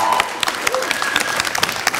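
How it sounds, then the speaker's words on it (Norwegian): Applause from a live TV show audience at the Kulturhuset Banken venue, brief scattered clapping with some cheering voices mixed in, lasting about two seconds. "applaus for det"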